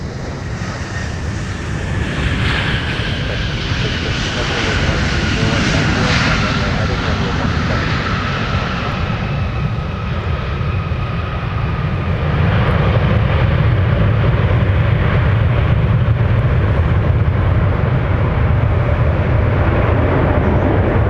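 An Airbus A350 lands on runway 12 right at Minneapolis–Saint Paul airport, its engines a loud, sustained roar that swells and rumbles for about twenty seconds, with radio chatter faintly underneath.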